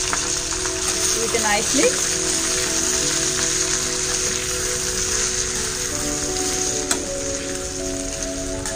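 Chopped cabbage, half a kilo, sizzles steadily in hot oil with a dense rain-like crackle, stirred with a few clinks while a voice talks briefly over it.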